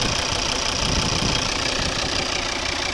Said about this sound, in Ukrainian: Ось робота двигуна.